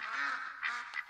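Ducks quacking in the hunting video game theHunter: Call of the Wild, a few nasal quacks heard clearly and fairly close, with no talk over them.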